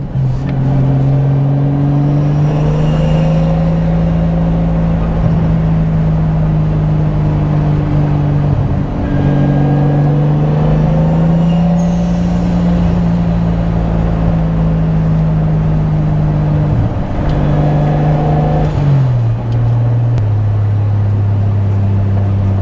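A classic MK3 Toyota Supra Turbo engine heard from inside while driving, a loud continuous drone whose pitch rises and falls smoothly with throttle and gear changes, steady throughout with no talk.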